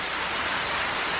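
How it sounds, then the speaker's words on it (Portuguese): Rain falls steadily in the early hours of the night, a close, even hiss of dense drops with no pauses or other sounds. "Eu acho bom assim quando chove assim de madrugada"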